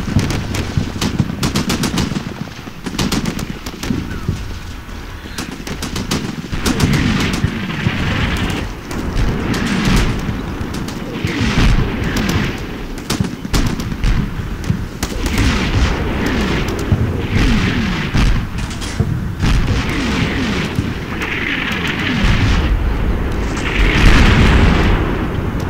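Artillery fire for effect pounding trenches in the Combat Mission video game, with continuous heavy booms and explosions mixed with rapid machine-gun bursts, loud and dense throughout with no talk.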